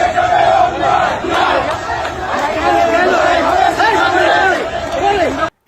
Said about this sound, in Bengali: হ্যাঁ, চাচ্ছু দলের মিছিল দেখেন।